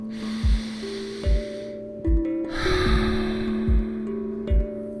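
Slow, deep breaths during a guided breathwork and body scan session, with repeated soft inhales and exhales in an even rhythm over a sustained low tonal drone, close and clear with no talking.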